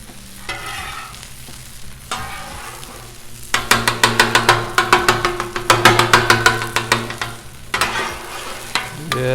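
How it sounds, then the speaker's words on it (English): Eggs fry on a Blackstone griddle with a low steady sizzle, broken by bursts of rapid, rhythmic metal scraping and tapping from a spatula on the flat-top. The bursts come close and loud, with short pauses between them. "I love cooking eggs on this thing"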